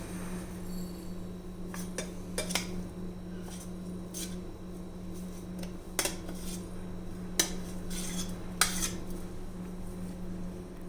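Moist rice-based puttu powder being scraped from a grinder jar into a bowl: a scatter of sharp metallic clinks and taps, some close and bright, over a steady low hum.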